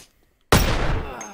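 A single sharp, loud gunshot from a video game where people are being shot, cracking suddenly out of near silence and ringing out into a long, heavy decaying tail.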